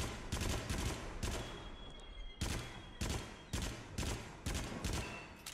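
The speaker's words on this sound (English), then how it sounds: "I'm really bad at shooting these." Rapid gunfire in the PSVR horror rail shooter Until Dawn: Rush of Blood: loud, close bursts of shots repeating in an uneven rhythm, with no talking.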